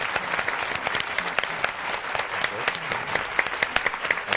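An audience claps for university deans after a panel conversation, a lively, steady round of many hands with sharp individual claps standing out, sustained without a break.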